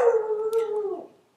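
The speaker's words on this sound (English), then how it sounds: "Sorry about the dog in the background." A dog howls outdoors in a single drawn-out, wavering call lasting about a second, close and fairly loud, then trailing off into silence.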